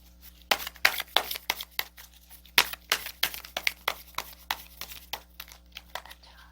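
Tarot cards are shuffled and an extra card is drawn from the deck, giving a rapid series of crisp, close papery slaps and flicks in an uneven rhythm, with no voices.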